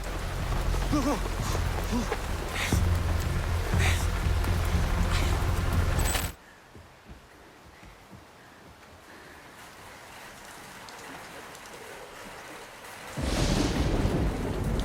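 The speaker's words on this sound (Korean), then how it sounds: "천둥 소리와 함께 소나기가 퍼붓기 시작하자" Heavy rain pours with a deep rumble of thunder, then briefly drops to a quieter patter before the downpour surges back loudly.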